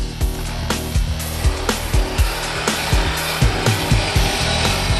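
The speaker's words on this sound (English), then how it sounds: "Will he fare any better against my 9-inch angle grinder?" A 9-inch angle grinder cuts into a stone gargoyle, a loud whining, abrasive grind pulsing in rhythmic surges as the disc bites and eases, alone without talk.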